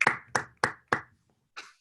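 A single person claps four times in quick succession on a video call, close and dry, followed by a softer fifth clap after a short pause.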